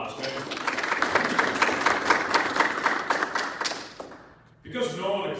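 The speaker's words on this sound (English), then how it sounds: "Let's give all the family members a big round of applause." An audience at a military change of command ceremony applauds family members, a dense, even patter of clapping hands that fills the room for several seconds, then fades out before a voice resumes speaking.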